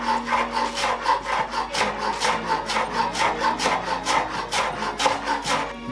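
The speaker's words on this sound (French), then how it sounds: "on prend sa ciboulette et on va venir la ciseler bien fin" A knife finely chops chives on a small cutting board, making quick, evenly spaced strokes. The close chopping holds a steady rhythm throughout, with no talking.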